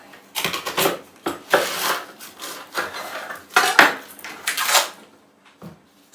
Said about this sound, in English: We also have an onion, and that's going to get cut here.